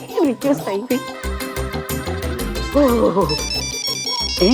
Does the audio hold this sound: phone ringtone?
yes